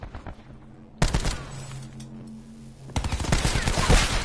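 Rapid bursts of gunfire aimed at razor wire, with dense volleys erupting sharply twice, the second burst continuing loud and sustained to the end.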